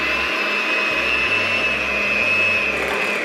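Electric hand mixer beaters whir steadily through room-temperature cream cheese and powdered sugar, a loud, continuous motor drone with slight pitch wobbles as the bowl contents shift, and nobody talks.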